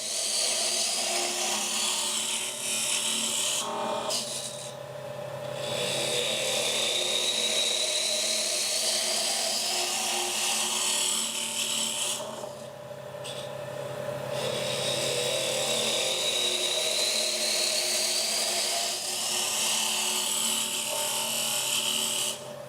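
A wood lathe takes a long, smooth finishing cut across a wood and pewter vase, giving a steady, close whirring scrape with two brief dips where the tool lifts.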